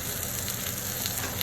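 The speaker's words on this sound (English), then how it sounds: "Just so that it keeps sizzling as it's being served, I'm going to turn it way up and get it burning hot" Barramundi fish sizzles in a very hot pan, a dense, steady crackling hiss that stays close and continuous with no voices over it.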